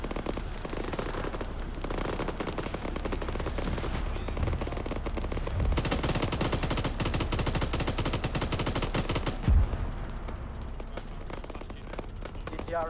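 Sustained machine gun fire in a military video game set in a 1984 jungle operation, dense rapid bursts continuing loud and close throughout, with a heavier blast near the end and players talking over the shooting.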